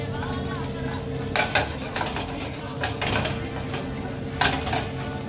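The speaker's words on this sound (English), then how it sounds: "we're gonna start with some olive oil, and then you're gonna put in your mushrooms. And you're just gonna let it sit there and saute for a few minutes." Mushrooms sauté in olive oil in a pan with a soft sizzle, while a utensil stirs and clinks against the cookware in scattered bursts.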